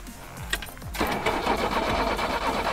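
A Zhiguli (Lada) car engine cranks briefly with a starter whine, then catches and runs at a steady, loud mid-pitched idle, heard up close.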